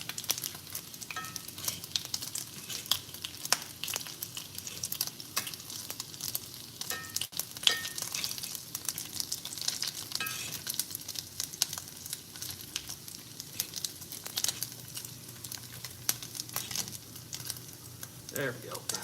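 Bacon frying in a pan for pretzel bun burgers, a steady dense crackle and sizzle with constant popping spatter throughout, close and fairly loud.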